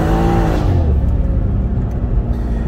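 Mercedes C63 S AMG and Shelby GT500 accelerating hard side by side in a rolling street race, a loud, close engine roar with rising harmonics that then settles into a steady, dense drone.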